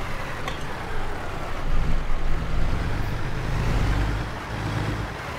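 A truck drives in the video game American Truck Simulator, a low, steady engine drone with road rumble that swells slightly as it maneuvers, with no voices.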